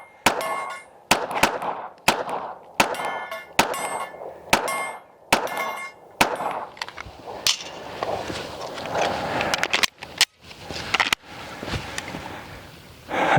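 Pistol rounds from a Springfield Armory Hellcat Pro Comp OSP strike a steel target outdoors, sharp ringing clangs at a rapid steady rhythm, loud and close, with a few more scattered hits following.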